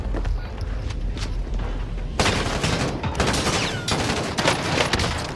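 Gunfire in the video game Call of Duty Warzone, a quieter stretch of scattered shots and thumps giving way to sustained heavy bursts of rapid firing, with no voices.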